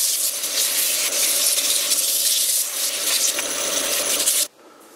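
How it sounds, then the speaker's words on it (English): Sandpaper rubbing steadily on the wet end grain of a wooden carver's mallet, a close, continuous hissing scrape for about four seconds that stops abruptly into near silence. "It's still pretty wet, so it's hard to sand it down."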